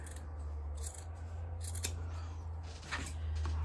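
Scissors snip repeatedly while trimming a witch hat wreath, a steady run of soft, close cuts over a low constant hum.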